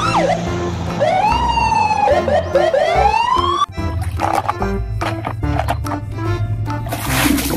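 A toy police car siren sounds over background music, its wailing pitch sweeping up and down loudly through the first half, followed by busy music and clatter with a brief voice.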